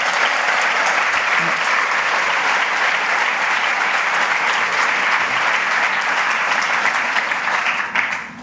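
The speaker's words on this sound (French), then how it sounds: "je propose, avant qu'on projette le film, déjà qu'on l'applaudisse très très très chaleureusement" An audience claps warmly at a launch presentation before a film screening. The applause is loud, dense and sustained for about eight seconds, then begins to taper off at the very end.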